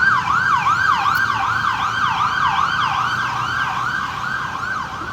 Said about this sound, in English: Jesus, siren today